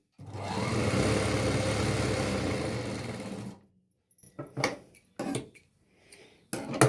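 A sewing machine runs in one steady burst for about three seconds, stitching folded cloth for a small petticoat, then stops; a few short clicks and handling knocks of cloth and machine follow.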